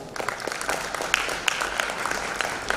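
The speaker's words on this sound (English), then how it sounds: "let's all give a round of applause together," Applause from attendees at an industry dialogue session, many hands clapping in a busy, uneven patter with a few sharper claps standing out, sustained across the whole span.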